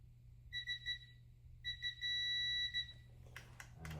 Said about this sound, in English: I'm just gonna listen for a solid beep.